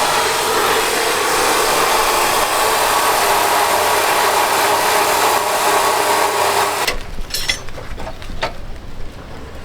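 A used vehicle suspension part is cut in a workshop, giving a loud, harsh, continuous grinding roar that runs for about seven seconds before it cuts off into clattering.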